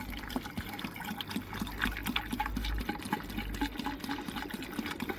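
Liquid poured slowly through a nozzle into a Tata Harrier, giving a continuous close trickle and gurgle with small splashes and bubbling, steady throughout with no talking.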